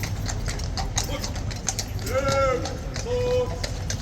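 Horse hooves clip-clop on a London street near Horse Guards in a quick, fairly close rhythm, with someone talking over them and a higher voice or call briefly audible.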